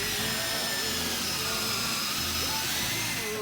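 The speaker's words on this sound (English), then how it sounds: "simple process of following the guide in the jig and boring out those" A power drill bores pocket holes through a Kreg jig clamped to the material, a continuous quiet whirring drone with no voices.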